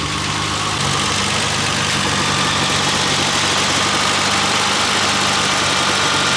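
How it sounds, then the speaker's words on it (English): A constant whooshing radiator cooling fan hum with a low engine drone underneath, steady and close, with no speech. "It's on and pulling hot air through the heat exchanger or the radiator."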